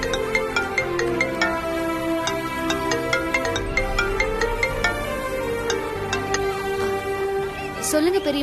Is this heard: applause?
no